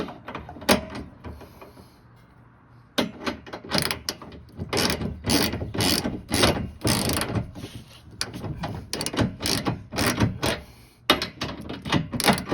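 Hand ratchet turning a hitch bolt on a 2012 Toyota Yaris during a trailer hitch install, a steady run of close, loud clicking strokes after a short pause.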